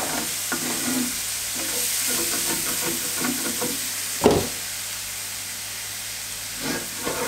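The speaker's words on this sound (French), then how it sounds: "on le fait dorer en remuant régulièrement pour éviter que ça brûle de trop" Garlic fries in fat in a pan while being stirred, giving a steady close sizzle and hiss with repeated soft scraping strokes of the spoon and one louder knock midway; no talk.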